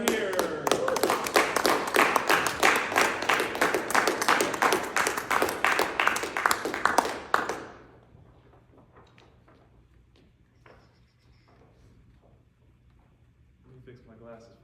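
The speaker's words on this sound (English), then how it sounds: "Everybody give a big round of applause for Awez Dahir." An audience at a school awards ceremony for young men claps in a loud, dense burst for about seven seconds, then stops abruptly, leaving quiet room tone with faint, indistinct murmuring.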